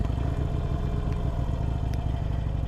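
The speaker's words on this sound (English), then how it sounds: "this button right here starts the bike" Harley-Davidson Iron 883 motorcycle engine rumbling steadily after starting, a deep, loud, even low-pitched throb close by with faint metallic clatter and no speech.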